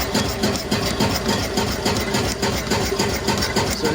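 A homemade wood-fired Stirling engine generator runs at about 211 RPM, producing a loud, steady mechanical chugging with an even repeating pulse throughout.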